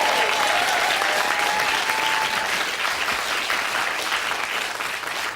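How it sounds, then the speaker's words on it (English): Studio audience applause on the Blockbusters TV quiz show for the winning champions, loud, thick and continuous clapping that fades gently near the close. "I think you deserve a massive round of applause"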